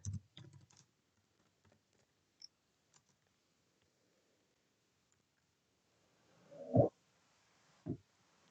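Computer keyboard typing: a quick burst of faint key clicks, a few scattered taps, then two louder, heavier key presses near the end, in a quiet room.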